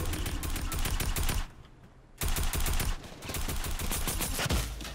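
Rapid bursts of gunfire in Fortnite Season 9, loud and dense, broken by a short quieter gap before the shooting resumes.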